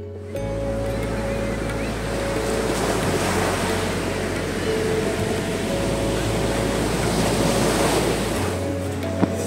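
Sea waves wash against the shore in front of a seaside shop, a loud, steady broadband rush of surf that never pauses, with a low constant hum beneath it and no talking.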